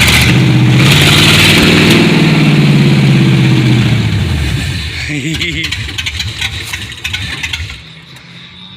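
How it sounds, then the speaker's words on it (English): A car engine revs loudly through a homemade true dual exhaust, a sustained roar that drops off after a few seconds into a rumbling idle with popping. "Rev it up."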